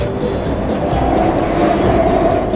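A train on rails pulls in, a steady loud rumble with low clattering and a faint metallic whine running throughout, close by and without any voices.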